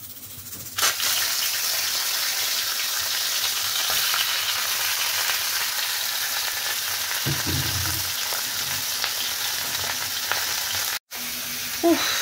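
Malabar spinach curry frying in a hot pan sizzles steadily and loudly close up for over twelve seconds, with a brief clatter of stirring partway through and a short break near the end.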